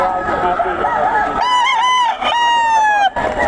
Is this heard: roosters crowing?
yes